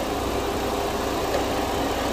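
A Volvo S80 engine idles steadily, with a continuous broadband hum and mild vibration close by at constant loudness and no talk over it.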